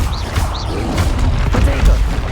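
Confringo fire spell explosions in Hogwarts Legacy, loud booming blasts and crackling impacts over a deep rumbling game soundscape, with a shouted spell name among them.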